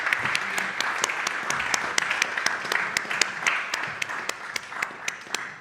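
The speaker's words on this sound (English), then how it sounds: "please give them warm applause" An audience at a European Maritime Day event gives steady, warm applause, with clear individual claps continuing evenly throughout.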